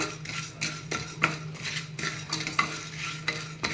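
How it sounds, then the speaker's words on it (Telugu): Lentils and spices dry roasting in a pan for pumpkin rasam, with continuous scraping and stirring of a utensil against the pan, light crackle and occasional metallic clinks, close and steady without speech. "రసానికి ఈ దినుసులన్నీ వేయించుకుందామండి లైట్గా, ఎక్కువ వద్దు."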